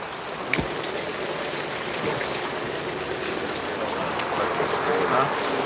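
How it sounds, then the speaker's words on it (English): Steady rain pours outdoors at a residential patio during a rainy AC installation in Irving, Texas. The hiss is continuous and fairly loud, with a few sharper drip or splash impacts near the start. "Oh, it's raining nice now,"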